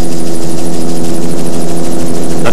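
Helicopter flying low over a 1985 triathlon championship course, a loud, close, continuous rotor thrum with rapid rhythmic blade chop throughout, no voices.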